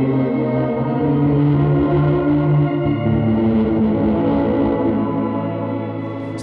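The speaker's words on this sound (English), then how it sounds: "The delay feeds into the reverb." Sustained electric guitar tones played through Fender delay and reverb pedals, the delay feeding into the reverb, wash together with long echoing repeats and a spacious reverb tail, notes blurring into a shimmering drone.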